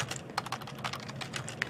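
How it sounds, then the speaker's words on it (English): Fingers type steadily on a computer keyboard, a soft, quick patter of key clicks close by, with no voices. "And then as Susan is typing all this out"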